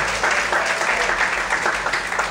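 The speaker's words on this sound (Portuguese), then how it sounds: "Vamos aplaudir o Senhor" Church congregation applauding during a service, a brief burst of close, dense, rhythmic clapping that carries on without break.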